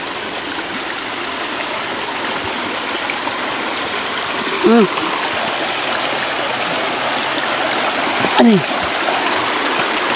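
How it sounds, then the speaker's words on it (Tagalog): A river stream flows steadily with a broad, constant rushing wash, heard alongside a brief exclamation and short vocal sounds on a walk near the water. "Daan kami ng ilog."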